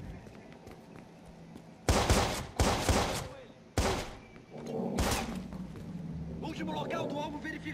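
Sharp bursts of rapid gunfire in the video game Watch Dogs: Bad Blood cut through a steady background, several loud volleys spaced a second or so apart, then a low rumbling continues.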